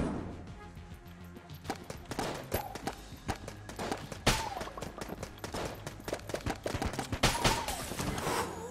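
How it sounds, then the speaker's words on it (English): Rapid gunfire from guns in a video game, with a dense run of sharp shots and bursts firing repeatedly over about nine seconds, close and loud, layered with game effects underneath. "It feels very satisfying to shoot guns."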